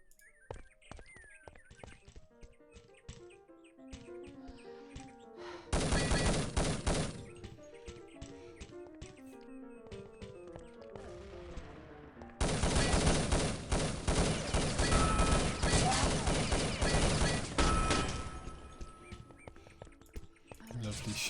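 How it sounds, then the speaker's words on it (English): Colt pistol shots ring out in the Urban Terror shooter during a tournament match, with dense bursts of rapid gunfire in two long stretches and a commentator talking throughout. "Lovely shots there by the Colt."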